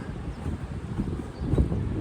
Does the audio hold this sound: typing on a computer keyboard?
no